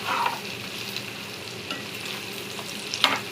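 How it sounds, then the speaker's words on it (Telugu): Chicken pieces frying in oil until golden, with a steady soft sizzle broken by occasional stirring scrapes and light clinks, no voices. "చికెన్ గోల్డెన్ కలర్ వచ్చే వరకు వేపుకున్నాను."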